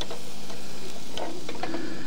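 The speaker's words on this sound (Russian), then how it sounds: "Все шкварчит." Fish lula kebab fries on a grill outdoors at dusk, giving a loud, steady sizzle and crackle with soft stirring or scraping sounds close by.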